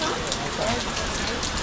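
Heavy tropical-storm rain pours down on a Fijian beach, a steady dense hiss of drops that runs unbroken throughout, with people talking over it.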